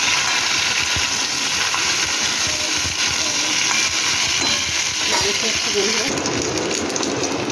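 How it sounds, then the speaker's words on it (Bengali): Sliced okra and potatoes fry in a pan with a steady, close broadband sizzle and occasional stirring scrapes, without talk. "এবার একটু ভেজে নেবো ভালো করে এটাকে।"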